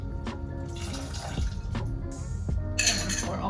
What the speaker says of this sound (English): I'm gonna pour all of that in there.